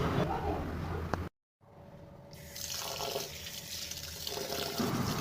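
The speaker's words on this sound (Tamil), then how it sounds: "சேர்த்துட்டு நம்ம ஒரு 3 தடவை நல்லா தண்ணி விட்டு வாஷ் பண்ணி எடுத்துக்கலாம்." Two tumblers of raw rice being washed in water for appam batter: sloshing and splashing close by, briefly cut off by a silent gap, then resuming as a steady watery rush.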